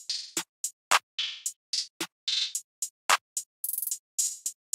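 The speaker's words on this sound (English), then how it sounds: "I had the short openhat from my stash kit, and it sounds like this" A short open hi-hat from a stash kit plays alone in a loose rhythm, each hiss bright and brief, with a few quick stuttered repeats.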